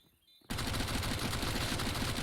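Rapid automatic MAC-10 gunfire in a competitive shooter video game match, starting abruptly after a quiet moment and continuing as a loud, dense, sustained burst of shots.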